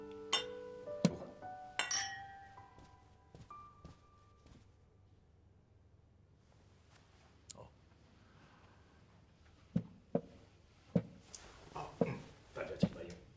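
Glasses clink together in a dinner toast, bright ringing chinks at the start and a cluster of sharper clinks near the end, with people talking in between.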